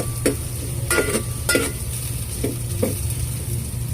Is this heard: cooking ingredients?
yes